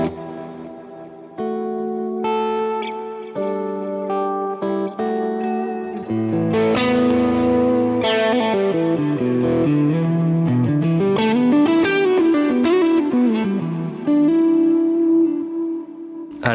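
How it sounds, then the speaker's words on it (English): Electric guitar played through a Space Echo tape-delay effect on a Line 6 Helix with a Supro 6166 amp model, loud sustained chords and single notes with distortion and trailing repeats, continuous with no talk. "So this is the Space Echo, obviously."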